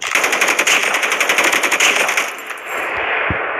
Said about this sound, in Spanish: Apuntado y disparar la misma vez.